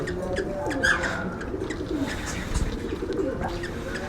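Doves cooing steadily and close by among kept birds with eggs and newly hatched chicks, a soft continuous murmur of calls with occasional brighter chirps over it.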